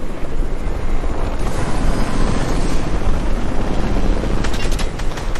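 A steady, loud rotor and engine roar from a helicopter in Fortnite fills the whole clip, broadband and constant, like a helicopter passing close overhead with wind noise.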